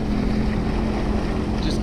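A 2018 Sea-Doo RXP X 300 jet ski engine idling loudly nearby, a steady low droning rumble with wind noise on the microphone throughout.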